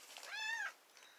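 A pet cat gives a single clear, rising-then-falling meow lasting under a second, close by, with no talking over it.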